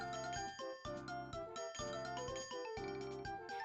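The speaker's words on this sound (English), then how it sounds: "I'm ringing my bell like crazy" A bell is rung over and over at a bazaar stall in the Harvest Moon: Grand Bazaar video game, its chiming tones repeating in quick bursts against steady in-game music.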